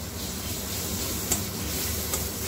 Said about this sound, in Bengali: এবার রসুনটাকে একটুখানি নাড়াচাড়া করে ভেজে নেব কাঁচা গন্ধটা যাওয়া পর্যন্ত।